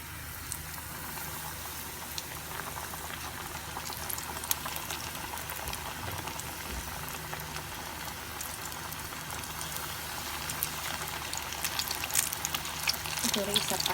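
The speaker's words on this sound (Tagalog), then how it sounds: "So, prito na natin ha." Chicken pieces frying in hot oil, Jollibee-style fried chicken, a steady bubbling crackle with scattered sharper pops that grows slightly louder toward the end.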